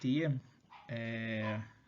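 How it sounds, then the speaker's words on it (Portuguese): A dog gives two drawn-out whining, yelping cries close by, with a brief pause between them. "Cachorro, uma hora dessa."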